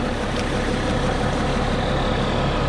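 A hydraulic-motor ditching machine runs with steady mechanical noise, its flapping fins flinging out material in a continuous, unbroken roar with no talk.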